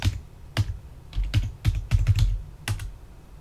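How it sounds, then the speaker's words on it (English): Password being typed on a computer keyboard for an LCD marquee controller: a few quick clusters of close, crisp key clicks with short pauses between them, and no voices. "type in your password"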